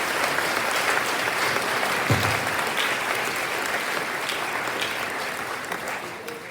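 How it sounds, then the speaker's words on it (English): Audience at a sixth form open evening gives a round of applause, dense sustained clapping filling the room for several seconds with a faint voice or thump briefly underneath, gradually easing near the end. "massive round of applause for you giving up your free time for me"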